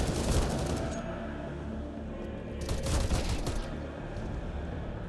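Pistols fire during a Counter-Strike match on the Ancient map, a steady wash of crackling shots in quick overlapping bursts, with busy game noise underneath and no clear voices.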